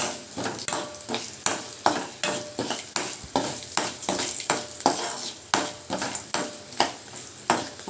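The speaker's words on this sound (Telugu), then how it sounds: "తాలింపు అయితే కాగిపోయింది" Spice tempering for semolina pulihora sizzles and crackles in hot oil in a pan, with steady frying hiss and repeated stirring scrapes and clinks at an even rhythm, close and moderately loud.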